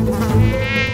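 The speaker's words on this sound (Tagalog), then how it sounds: "Mapalabas man ang bahay o loob ng kwarto, hindi pinatawad ng mga langaw." Houseflies swarming homes in a neighborhood in Laguna buzz steadily and close, a continuous droning hum with no talk.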